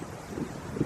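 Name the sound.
wind blowing into the microphone outdoors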